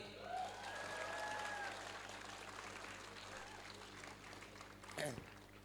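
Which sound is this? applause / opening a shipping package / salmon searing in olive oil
applause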